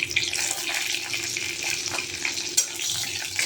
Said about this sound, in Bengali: লঙ্কা আর 5 ফোড়ন দিয়ে হালকা একটু ভেজে নিলাম